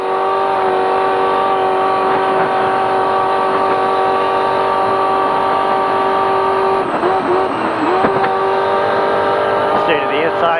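A spec trophy truck engine roars steadily at wide open throttle from inside the cab, loud and droning with a strong harmonic whine, briefly wavering near the end as the truck rattles over rough ground.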